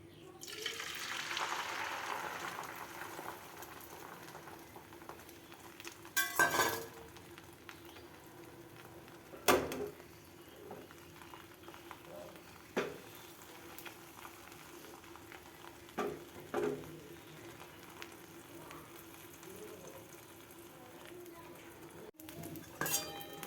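An egg drops into hot oil and sizzles briefly and quietly at first. The frying then settles into a faint crackle, broken by occasional clinks of utensils against the pan, spread over long, quiet stretches.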